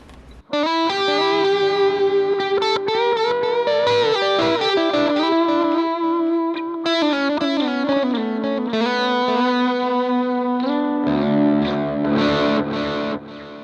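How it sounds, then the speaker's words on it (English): Loud, distorted electric guitar notes through a Lekato Tank G multi-effects unit's delay ring out continuously, each one trailing into repeating echoes that blur together, with reverb off. "If you turn the delay on, we'll turn the reverb off. We'll just be over dramatic with the delay."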